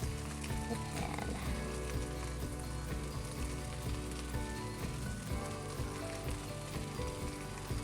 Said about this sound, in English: While my rice is cooking, I'm gonna take the egg rolls and set them in the pan.